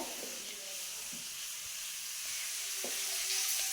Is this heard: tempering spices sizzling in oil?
yes